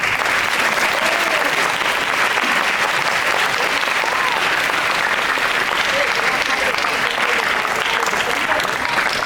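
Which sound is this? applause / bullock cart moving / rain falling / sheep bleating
applause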